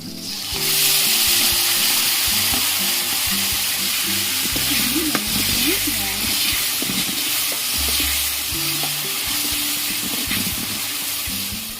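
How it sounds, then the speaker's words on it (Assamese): Roasted, peeled eggplant fries in a pan with a loud, continuous sizzle and hiss, close up, while a utensil stirs and scrapes through it with irregular clatter. "বেঙেনাখিনি অলপ দেৰি ভাজি লোৱাৰ পিছত"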